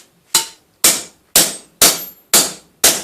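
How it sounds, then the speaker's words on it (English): A heavier hammer strikes an improvised cutting tool into metal, six hard, sharp, ringing blows spaced about half a second apart, each one loud and close with a short decaying tail. "I'm going to use the heavier hammer for greater effect"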